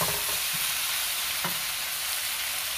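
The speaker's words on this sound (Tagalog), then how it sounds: "nagprito pa ako ng isda" Fish frying in a pan with a steady, fairly loud sizzle and a few soft stirring or utensil knocks, no talking.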